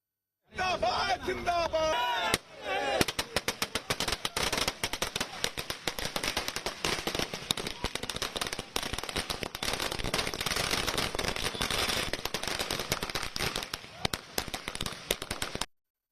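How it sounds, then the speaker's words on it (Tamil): Firecrackers set off by party workers at a celebration in Patna, a long rapid string of sharp cracking bursts, loud and close, popping almost continuously after a brief opening. "பாட்னாவில் பாஜக உள்ளிட்ட பிற கட்சி தொண்டர்கள் பட்டாசுகளை வெடித்து மகிழ்ச்சியை கொண்டாடினர்"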